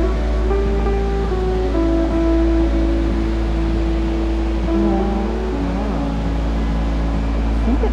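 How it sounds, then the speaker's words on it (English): A small waterfall rushes steadily beneath a low constant rumble, with faint tonal hums drifting over the splashing water. "beautiful little waterfall"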